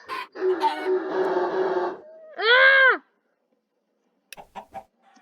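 A cartoonish chicken in a party video game clucks and then lets out a loud rising-and-falling squawk, followed by quieter game noises, with a player's brief shout nearby.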